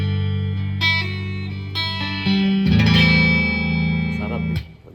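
An electric guitar with a single-coil pickup played through effects, a sequence of sustained, chorused and slightly distorted chords and notes with reverb, growing fuller before stopping abruptly.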